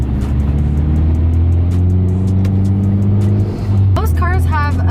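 A manual car's engine drones steadily in second gear as it pulls away, a loud low hum that dips briefly before a voice and chirping sounds break in near the end.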